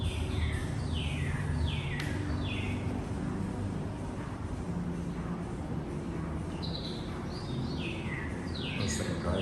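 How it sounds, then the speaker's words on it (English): Birds chirp in a garden setting with several short, descending calls repeating now and then over a constant low rumble of background noise. "And then you've got bird sounds."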